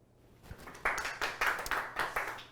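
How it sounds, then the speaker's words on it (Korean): Scattered hand claps from a small audience at a product user meeting for a medical device maker, starting with a single clap and then several uneven bursts of clapping, fairly quiet in a hushed room. "박수 부탁드립니다."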